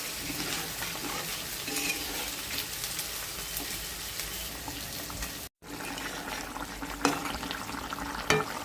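Hilsa fish curry bubbles and simmers in a pan, a steady wet churning and sizzle throughout with a brief cut near the middle and a couple of sharper clinks toward the end.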